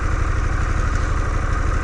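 A 2022 Harley-Davidson Pan America Special motorcycle engine idles close up, a dense steady low rumble with a faint rattly texture and no pauses.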